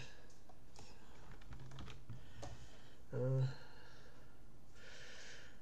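Typing on a computer keyboard, a few scattered close clicks and key taps, quiet, with a brief voiced hum in the middle and another short burst of keystrokes toward the end.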